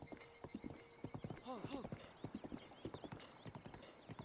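Horse hooves clip-clopping in the game Breath of the Wild from a brown and cream horse, a steady run of sharp, close hoofbeats with a brief whinny partway through, all with no talk.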